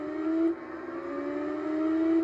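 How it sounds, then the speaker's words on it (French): A steady, droning race car engine in the PS2 game Noble Racing hums at a sustained pitch, dipping briefly then holding a smooth, continuous whine. "le bruit du moteur est plutôt passable"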